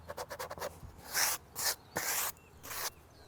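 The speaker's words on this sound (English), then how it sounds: "I'm going to take that sanding sponge and just give this a light sand." Several short, rapid scrapes followed by four longer, slower rasping strokes of a sanding sponge lightly sanding wooden exterior window trim, close up and with no voices.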